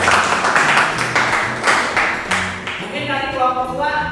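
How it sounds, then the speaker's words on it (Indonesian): A classroom group claps for a student team, giving a scattered round of hand claps with a few distinct taps. The clapping is moderately loud and close, then fades as it overlaps with talking. "Tepukan untuk kelompok 2 dong."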